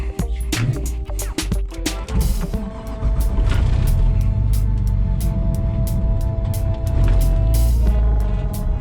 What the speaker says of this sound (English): I'm just gonna start it in gear and just be ready to hit the gas